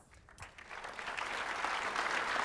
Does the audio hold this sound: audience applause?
yes